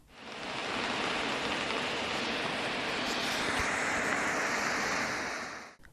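Sızdır Waterfall in autumn, its rushing water making a dense, steady roar that swells in within the first second, holds evenly and fades out at the end.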